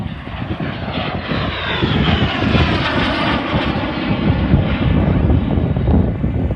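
Rolls-Royce Merlin and Griffon piston engines of a Hurricane and Spitfire at an airshow, a loud throaty propeller drone that swells as the aircraft pass overhead and holds steady without talk.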